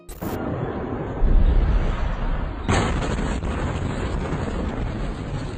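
Security cameras record a massive, fiery blast equal to 1.5 to 2.5 tons of TNT: a loud, sustained low roar and rumble with a sudden second surge partway through, like heavy wind buffeting the microphone.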